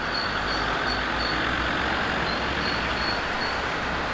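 Land Rover in a veteran car convoy on the London to Brighton run at Cuckfield, its engine and tyre noise a steady loud roadway roar throughout, with no talk.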